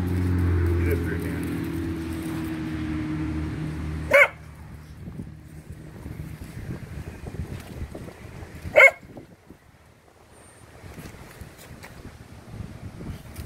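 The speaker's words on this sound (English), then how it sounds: "My dog's having a fit." A dog gives two sharp, isolated barks several seconds apart while investigating a turtle under a chair outdoors, against wind noise and a person speaking.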